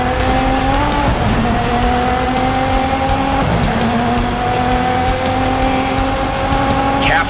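A Toyota GR DKR Hilux rally car tears off-road in the Dakar Desert Rally game, its engine droning loud and steady with shifting pitch and tire scrabble over gravel, unbroken throughout.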